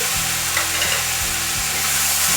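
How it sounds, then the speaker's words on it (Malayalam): Potato and beans curry with turmeric, ginger and garlic is sautéed in a pan, giving a loud, close, continuous sizzle broken by a few low scraping strokes of a stirring spoon. "ഒരു 3 മിനിറ്റ് ഇതൊന്ന് വഴറ്റിയെടുക്കണം."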